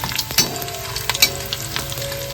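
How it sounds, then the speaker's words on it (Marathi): Dried fish (chevna) fries loudly in hot oil in a pan, a dense close crackling sizzle broken by a few sharp pops and utensil scrapes. "तव्यामध्ये तेल ठेवला होता तापत आता ह्याच्यामध्ये सर्व चेवणा घालून घेतोय"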